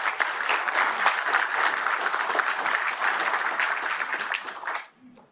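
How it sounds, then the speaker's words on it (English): An audience at a mining conference applauds, a dense and sustained wash of clapping from a large crowd that stops abruptly near the end. "Please give yourself a round of applause."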